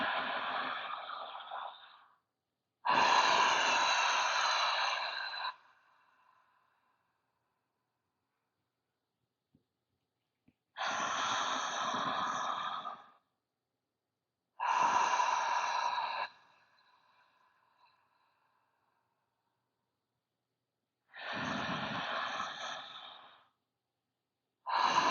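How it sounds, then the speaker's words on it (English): Slow, deep belly breaths come close and clear, each long airy inhale or exhale separated by quiet pauses, about five breaths in a calm, unhurried rhythm with no talking. "these nice deep belly breaths"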